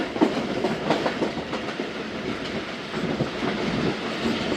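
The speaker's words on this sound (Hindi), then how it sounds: "शहर 1:04 पर माछीकोट रेलवे स्टेशन पास हुई है ट्रेन" Khyber Mail passenger train running in hot weather, heard from on board as a steady rumbling roll with rhythmic clickety-clack of wheels over rail joints and occasional louder knocks, continuous throughout with no talk.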